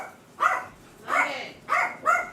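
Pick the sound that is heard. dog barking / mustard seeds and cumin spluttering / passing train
dog barking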